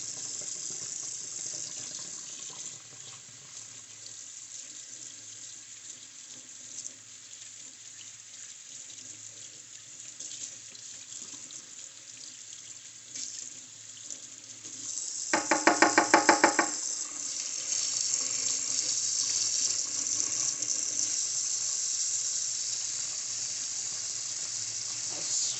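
Tap water runs steadily over makeup brushes as soap is rinsed out, a constant close hiss with a brief louder burst of splashing and knocking midway, then a slightly fuller stream.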